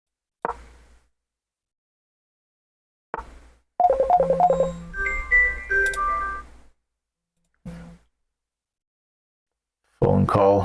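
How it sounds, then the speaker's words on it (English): An incoming phone call during an online chess game: short electronic tone bursts spaced a few seconds apart, with a brief run of rapid higher beeps and tones in the middle and silence between. "Phone call."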